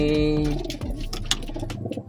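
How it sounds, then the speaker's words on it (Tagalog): A pigeon cooing close by, a soft low throaty coo followed by light rustling and shuffling, alone without talk. "kukunin natin itong isang ibon na to"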